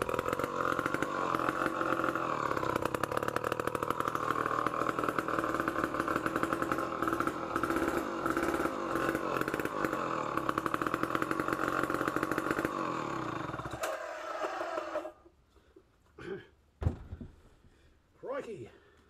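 A Remington SL-5 chainsaw, leaking fuel, roars loudly and continuously close by for about fourteen seconds with a rough, buzzing two-stroke drone, then cuts out, leaving scattered clatters and brief handling sounds.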